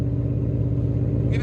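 A Ford Mustang GT with the 5.0L Coyote V8 and aftermarket performance exhaust idles steadily, a close, even low rumble holding constant with no revs and no voices.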